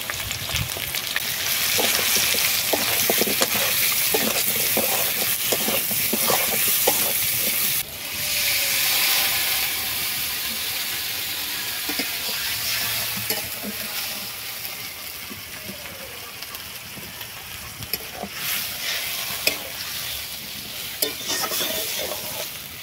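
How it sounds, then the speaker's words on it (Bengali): Ginger paste, chili powder and turmeric powder frying in oil outdoors on a windy day, a loud dense sizzle with repeated spatula stirring strokes, easing into a softer bubbling hiss partway through. "এবারে দিচ্ছি আদা বাটা, লঙ্কা গুঁড়ো, হলুদ গুঁড়ো"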